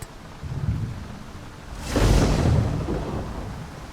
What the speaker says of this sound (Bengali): বাইরে প্রবল বৃষ্টির সাথে বজ্রপাত